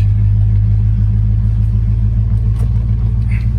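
A 1965 Ford Mustang convertible engine idles just after starting, a loud, steady low rumble with an even, pulsing throb, heard close and alone.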